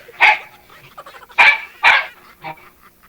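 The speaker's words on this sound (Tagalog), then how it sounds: "ang ingay ng mga aso niyo." Household dogs bark loudly and close by in four sharp bursts, three strong and a softer fourth, separated by short pauses, with no talking.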